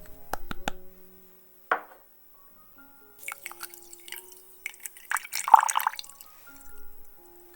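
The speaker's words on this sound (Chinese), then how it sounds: "小锅中加入糖和水" Sugar and water being poured into a small pot for a rum syrup, close and quiet: a few sharp ticks, a short pouring swish, then a trickling, splashing pour that swells briefly and fades.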